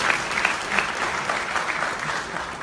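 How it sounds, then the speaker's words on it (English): An audience at a OneCoin event in Lisbon claps together in a sustained, dense burst of applause that stays loud and even throughout, heard from within the hall without any talking. "Give them a big round of applause,"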